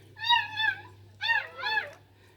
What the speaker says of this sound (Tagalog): Dami ditong pusa sa gabi.